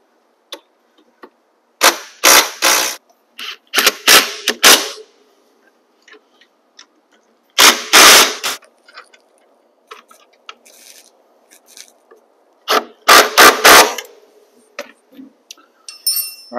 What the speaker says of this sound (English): now it's time to tighten down all of the motor mounting bolts and the main gearbox bolt